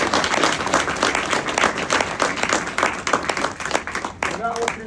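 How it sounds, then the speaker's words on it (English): An audience at a high school signing day applauds, dense sustained clapping filling the room, loud and near, fading slightly as a voice begins near the end. "I want you to give them a round of applause real quick."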